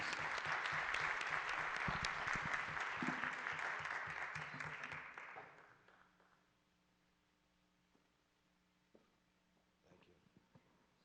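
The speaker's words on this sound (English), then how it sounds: "let's give them another round of applause" A crowd claps steadily and loudly for about five seconds, then the applause fades out, leaving a quiet room with a few scattered sounds.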